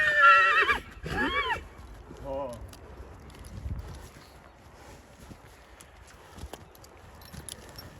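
A Soviet heavy draft stallion neighs loudly and close by in a long whinny followed by a second shorter call, then a farmyard falls quieter with faint movement and distant sounds.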